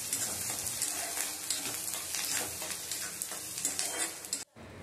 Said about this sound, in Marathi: मग त्याबरोबरीने वरणाला काही लगेच इन्स्टंट फोडणी देऊन होते